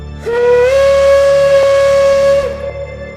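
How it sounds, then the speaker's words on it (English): A steam engine's whistle sounds as one long, loud, steady tone that holds for about two seconds and then fades away with a trailing echo. No one speaks. "to 488, it sounded like an engine's whistle"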